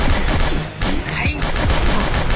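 Rapid gunfire from the video game Call of Bieber: dense, loud bursts of shots in quick succession that fill the whole moment, with no talking.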